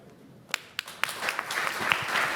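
An audience applauds a panel, with sparse individual claps at first building into a fuller, steady round of clapping that grows toward the end.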